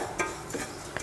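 Wheat rava being stirred as it roasts in ghee in a pan, with a few soft scrapes and taps of the spoon against the pan over a quiet background.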